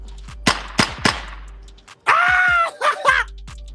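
Gunshots fired into the air outdoors during a live broadcast: three sharp, loud reports in quick succession, followed by a burst of voices shouting and reacting.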